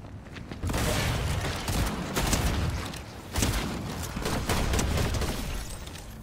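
In Fortnite, a rocket launcher fires and explodes in several heavy, booming blasts spread across a few seconds, each one broad and fairly loud amid ongoing combat noise.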